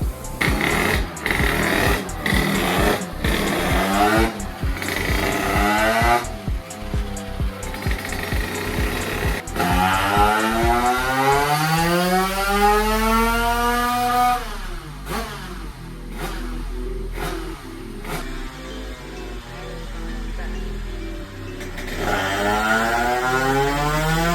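A Beta 94 motorcycle engine with a new exhaust runs on a dyno, popping at idle, then revving hard in long rising sweeps that climb in pitch, loud and close, with repeated throttle pulls.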